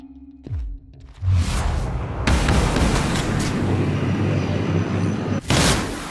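A grenade goes off in The Outer Worlds, a heavy boom with a rushing whoosh that swells into a sustained roar, ending in a sharp burst near the end.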